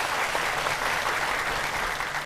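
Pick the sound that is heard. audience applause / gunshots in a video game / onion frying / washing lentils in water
audience applause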